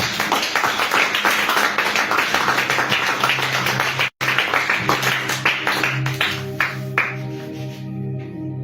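A church congregation claps together in a fast, steady rhythm with faint tones underneath. The clapping breaks off for an instant midway, then carries on before thinning out and stopping near the end.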